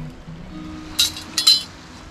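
A small piece of glass clinks twice while metal detecting, two bright short chinks close by over a quiet low background.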